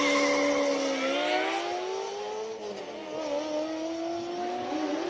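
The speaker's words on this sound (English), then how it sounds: "What a glorious sounding Ferrari as he goes up the hill." Ferrari race car climbing the hill at the Cape Town Speed Classic hill climb, engine note rising and falling through gear changes as it pulls away, steady and fairly loud with no speech.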